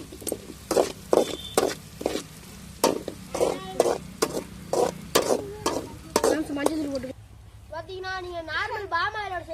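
Onions sauté in a pan with chillies for a spicy salt chicken dish: a soft sizzle runs under repeated loud scraping and clattering stir strokes, and a person talks near the end.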